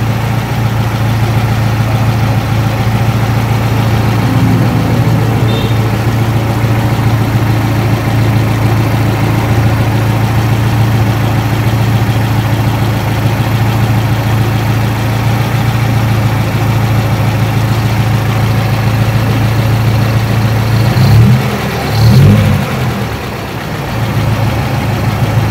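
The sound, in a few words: car engine running while checking radiator fan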